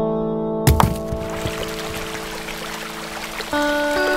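Water gushing out in a cartoon, opening with a sudden splash and then a continuous pouring, streaming rush that holds steady and swells slightly near the end, with no talk over it.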